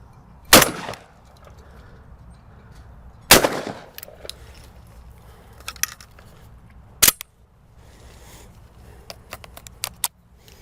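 An old Browning semi-automatic shotgun fires two loud, sharp outdoor blasts with long ringing decay, followed by a third shot and scattered fainter clicks and clatter.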